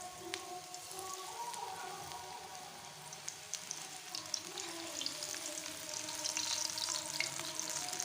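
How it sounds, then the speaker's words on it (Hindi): Shredded cabbage pakoras fry in hot oil over a low flame with a soft, continuous crackle like light rain. The sizzle grows slightly busier toward the end, and no voice is heard. "तो चलिए इसको बनाते हैं, फ्राई कर लेते हैं इनको।"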